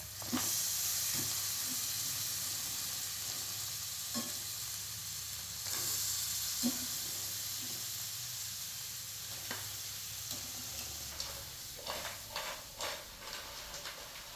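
Crabs frying in a masala of spices and coriander in a pan, a steady sizzle with occasional sharp crackles and spits, close and alone without talk.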